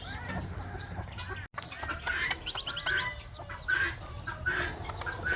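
A rooster and several hens cluck and chatter continuously in a backyard flock, the calls near and fairly loud over low ambient noise, with one brief dropout partway through.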